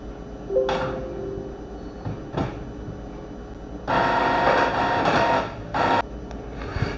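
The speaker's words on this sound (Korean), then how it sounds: "저는 아무튼 그냥 프린터로 출력을 해 보겠습니다" Office printer printing out a property registry certificate, giving soft mechanical whirring and feeding bursts with a longer louder run in the middle and another short burst near the end.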